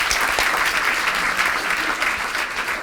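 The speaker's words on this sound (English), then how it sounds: "Give us a round of applause." Studio audience gives a short, steady round of applause during an interview with businesswoman Karren Brady, dense clapping filling the room at an even level throughout.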